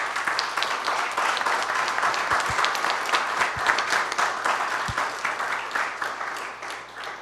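An audience at a closing ceremony gives sustained, dense applause at steady volume that eases slightly at the very end, with a low hum underneath.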